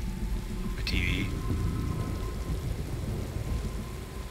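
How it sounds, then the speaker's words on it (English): Heavy rain pours steadily with rolling thunder in a stormy scene from the Metal Gear Solid V video game. Dense hissing rain sits over a low rumble, with a brief high chirp early on. "That rain just won't let up."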